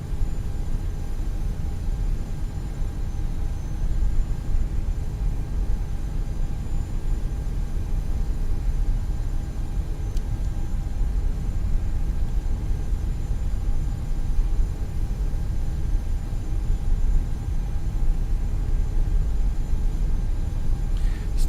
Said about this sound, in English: British Airways taxiing out.